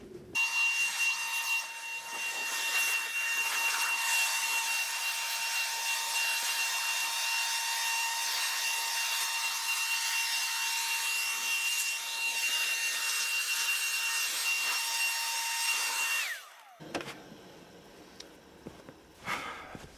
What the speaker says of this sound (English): Clearly you can see it's really easy to use a leaf blower